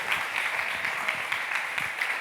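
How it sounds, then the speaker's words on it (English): A conference audience applauds after a talk on building a generation of animal advocates, a steady wash of many hands clapping at moderate distance, continuous for a couple of seconds without pause. "Can you clap if you want to build a generation of animal advocates?"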